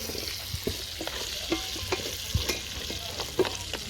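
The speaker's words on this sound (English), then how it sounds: "I'm going to add onions to the meat so they can cook together." Onions stirred and frying with browned beef in a pot over a village cooking fire, steady sizzle with repeated clinks and scrapes of a spoon against the pot, close and continuous.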